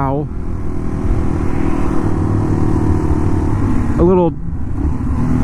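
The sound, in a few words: Yamaha TW200 dual sport motorcycle riding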